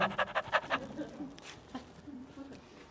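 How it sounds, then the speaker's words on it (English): Digby the dog pants in quick, rhythmic bursts up close for under a second, then fades as a voice talks over faint background noise. "Digby the dog pants."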